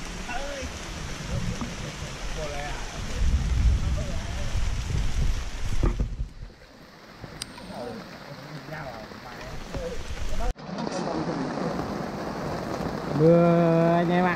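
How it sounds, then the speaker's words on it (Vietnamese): Rain falls in a forest at night, a steady hiss with drops spattering nearby, while people talk over it and the sound cuts abruptly a couple of times. "Mưa anh em ạ."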